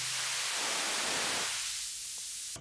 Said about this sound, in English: This is blue noise.